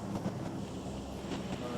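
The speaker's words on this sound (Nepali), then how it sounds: "राइटबाट अर्को गाडी आयो" A vehicle drives in from the right in the battle-royale game PUBG Mobile. Its engine makes a faint, continuous mechanical rumble throughout, heard low in the mix.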